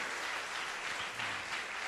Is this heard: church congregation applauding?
yes